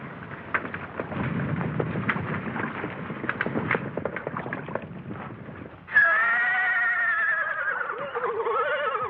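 A horse bogged down in mud whinnies in a loud, wavering neigh during the last few seconds, following a stretch of rumbling, rustling commotion.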